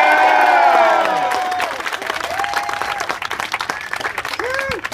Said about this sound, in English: Few claps. A boo.